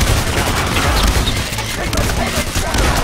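Video game gunfire: dense, rapid bursts of shots crackle continuously in a busy, noisy mix, with a voice speaking intermittently over the firing.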